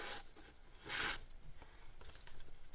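Rasping strokes of a Case Sod Buster Jr chrome vanadium steel knife drawn freehand across a grit sharpening stone, one loud broad stroke then softer scraping passes, close and alone.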